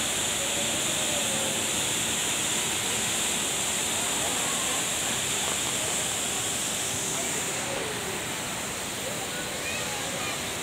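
The indoor waterfall at Jewel in Singapore roars as a continuous, loud broadband rush of falling water that stays steady throughout, with a few faint voices murmuring in the background.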